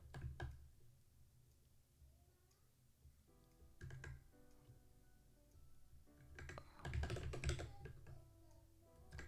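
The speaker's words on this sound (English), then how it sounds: "I'm struggling with this keyboard. It's sort of custom and sticking around it." Someone types on a custom computer keyboard, irregular bursts of close clacking keystrokes with pauses between, the busiest flurry near the end, no talking.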